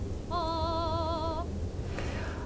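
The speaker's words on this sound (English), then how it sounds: "for example, of a voice sound like this soprano sound that we can listen to." A soprano voice sings a single sustained vibrato note for about a second, clear and close, followed by a faint brief tail.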